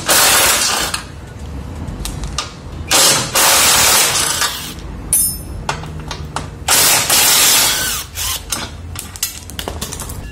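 Bolts and a sheet-metal cover come off the engine of a Volkswagen Gol Power with an Audi AP engine, worked with a 17 mm ratchet and wrench: bursts of metallic clatter, ratcheting and scraping, close and loud, with pauses between.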